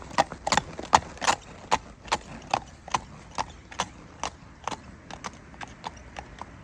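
A four-year-old Friesian sport horse gelding moving under saddle, hooves clip-clopping in a brisk, fairly regular rhythm of distinct close hoofbeats across several seconds.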